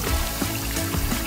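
Warm water poured over someone for rinsing, a brief, close splashing pour with uneven gushes and trickles.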